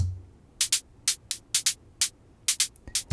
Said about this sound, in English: a noise layer, and what that basically is just quick little stabs of white noise